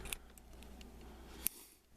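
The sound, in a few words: small scissors being handled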